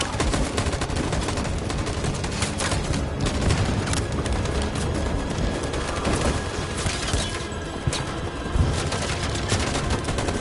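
Dense, sustained volley of gunfire from many weapons at once in the video game Detroit: Become Human, rattling continuously without pause, with a few heavier booms standing out near the end.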